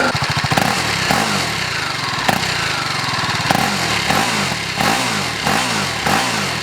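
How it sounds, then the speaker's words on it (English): BMW G 310 GS adventure motorcycle with its single-cylinder engine, revved repeatedly: a choppy idle rises into several sharp throttle blips that climb and fall back, close and loud with no talking. "Let's have a listen to the exhaust."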